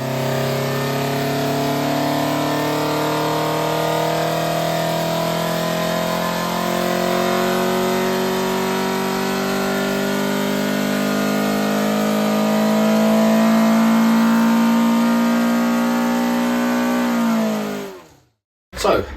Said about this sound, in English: So let's show you a couple of dyno runs and see if we got the green line.